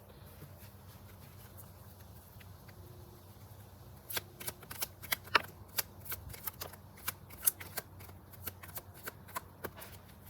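Oracle cards are shuffled by hand for a tarot reading: a quiet stretch, then repeated soft riffling and slapping bursts in an uneven rhythm, close and moderately loud.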